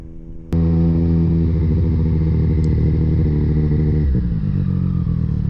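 A 2020 Triumph Street Triple RS motorcycle fires up loudly and pulls away hard, its engine holding a strong, steady roar before shifting pitch as it accelerates, close and with no talking.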